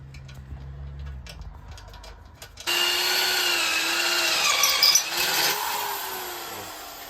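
A power drill bores bolt holes through a steel bracket on a 2017 Chevy Suburban. After a quiet stretch of faint taps, it starts abruptly and runs loud and steady with a strained, wavering whine for about four seconds.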